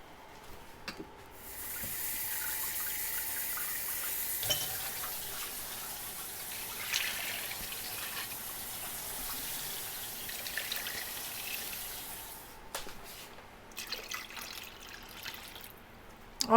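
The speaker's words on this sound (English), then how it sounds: "now I'm going to add 12 cups of water." Twelve cups of water pour steadily into a pot for several seconds while canning chicken soup, a continuous splashing rush that fades out, with faint clinks near the end.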